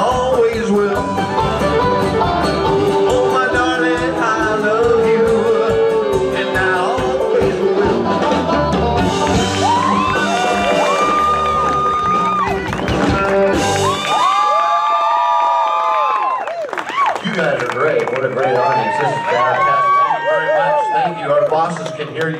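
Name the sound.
audience cheering and screaming at a live show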